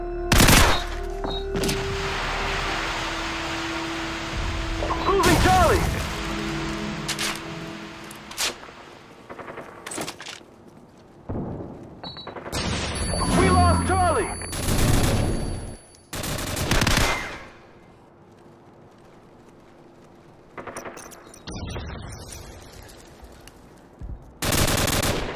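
Bursts of rapid automatic gunfire and single heavy shots from a multiplayer shooter match come in loud clusters separated by quieter gaps, with a few faint voice callouts.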